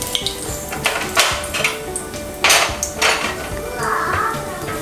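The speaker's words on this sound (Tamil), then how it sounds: "ஆயில் நல்லா சூடானதும் நம்ம ஹோல் கரம் மசாலா உள்ளே போட்டுடலாம்." Whole garam masala dropped into hot sesame oil in a heavy-bottomed cooker: sharp metallic clanks and scrapes against the pot, followed by a soft sizzle toward the end, close and fairly loud.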